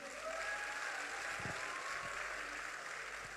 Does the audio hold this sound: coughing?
no